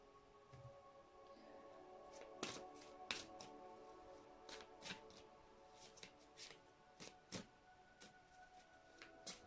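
A deck of tarot cards is shuffled by hand in a quiet room, giving repeated crisp riffling bursts and flicks in an uneven rhythm, close and fairly soft.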